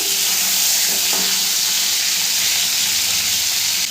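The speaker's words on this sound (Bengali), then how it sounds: "2 মিনিট পর ঢাকনাটা আমি তুলে নেব। এরপর নেড়ে দেবো।" Doi potol curry cooks in a pan over a medium gas flame, giving a loud, close, steady sizzle with some stirring and no speech.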